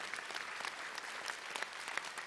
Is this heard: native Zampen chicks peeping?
no